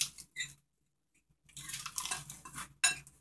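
Pancake mix with basil, oregano and cocoa powder is stirred in a bowl, with a couple of brief clinks, a pause, then a burst of close scraping and tapping of a utensil and a final sharp clink.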